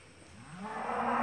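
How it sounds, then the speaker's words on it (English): Cows let onto an annual millet field give a single low moo that rises and swells in loudness over about a second, fairly close, with no talking. "this is the first time we're letting the cows on"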